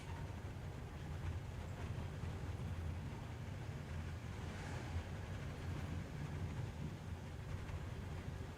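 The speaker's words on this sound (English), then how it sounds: "Wow, I'm on top of a train now." A train moves in the video game Master Detective Archives Rain Code, heard as a steady low rumble with rhythmic rail clatter and a wind-like wash, continuous and fairly loud throughout with no talk.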